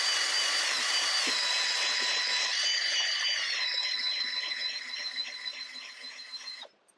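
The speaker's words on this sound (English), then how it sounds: "it's as simple as using a battery drill to turn the hone" A battery drill spins a cylinder hone inside a vintage DAP kart engine bore, making a steady high-pitched whirring grind that holds level and then tapers off and stops near the end.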